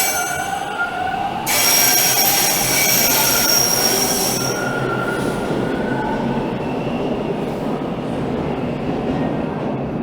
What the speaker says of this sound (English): Might as well watch the train roll out.